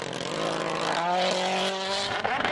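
Rally car at Rally Sweden on a snowy stage corner, running wide and powering out, its engine roaring loudly and steadily with rising revs, close and continuous.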